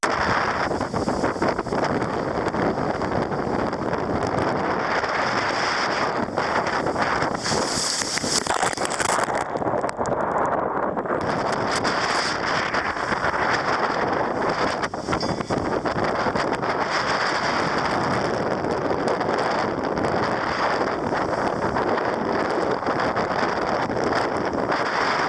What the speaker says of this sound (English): Presently we're in near gale conditions. We've got about an easterly winds around 25 to 35 knots